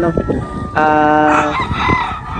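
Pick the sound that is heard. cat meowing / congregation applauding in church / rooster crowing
rooster crowing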